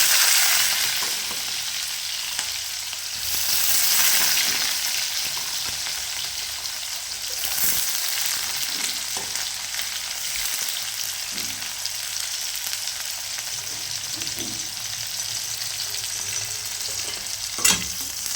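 Green chillies and onion sautéing in hot oil in a pan for upma, a continuous close frying sizzle with occasional stirring scrapes and a sharp clink near the end, no talking.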